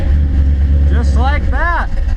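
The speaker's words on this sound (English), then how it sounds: "we'll go ahead and crank it" A 1968 Chevy C10 pickup engine fitted with FAST EZ EFI fuel injection cranks and fires, a steady low engine rumble running throughout while someone talks over it.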